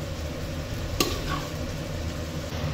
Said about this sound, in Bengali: চালটা দিয়ে দিয়েছি, এবার এটাকে ভালোভাবে মিশিয়ে একটু নাড়াচাড়া করব